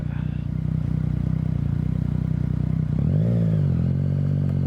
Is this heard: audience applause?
no